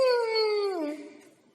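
Children imitate an aeroplane with a sustained humming N sound, a single descending drone that fades out after about a second, voices only and close.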